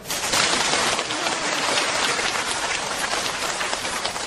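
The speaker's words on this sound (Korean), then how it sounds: "박수 한번 치세요." An audience at a lecture claps together, a thick, even patter of many hands that holds steady and loud, close by, with no voices rising above it.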